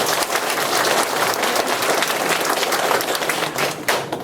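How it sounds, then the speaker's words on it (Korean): A crowd at a local residents' briefing meeting in Songpa-gu claps loudly and continuously, dense overlapping handclaps with a few sharper individual claps standing out before the applause thins at the end. "다시 한번 박수 부탁드립니다."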